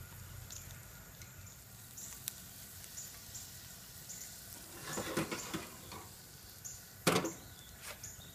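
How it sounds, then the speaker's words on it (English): Food sautéing in garlic butter in a pan on a Coleman camp stove outdoors, a faint steady sizzle with occasional soft clicks and knocks of utensils, no talk. "Just gonna let these saute for a little bit in the garlic butter."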